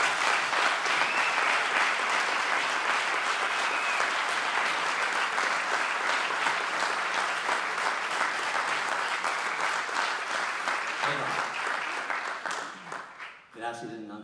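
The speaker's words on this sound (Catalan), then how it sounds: "vos deman un aplaudiment per tots ells i elles" Sustained audience applause at a traditional music event in Muro, Mallorca, steady and dense for most of the stretch before fading out, with a voice briefly heard at the end.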